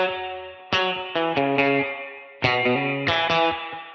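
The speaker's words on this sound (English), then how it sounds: "I'm curious to see what the drive and the spring reverb would sound like on this electric guitar" Electric guitar played through drive and spring reverb pedals, clean-sounding plucked chords struck in two repeated phrases with ringing, surfy reverb tails, solo with no talk.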